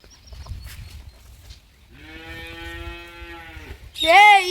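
A cow gives one loud, close moo lasting about two seconds over steady outdoor background noise, followed by a brief harsher sound.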